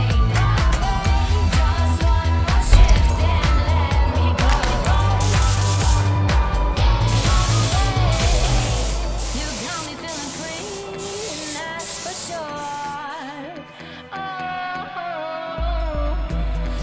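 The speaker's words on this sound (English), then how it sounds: "now I have to seal the color with some clear coat. And to do so, I use a mini gun" A mini spray gun with a 1.0 mm needle and nozzle hisses steadily while laying clear coat over a colorshift paint job on an S-Works 2021 Sagan collection bike frame, with music playing throughout.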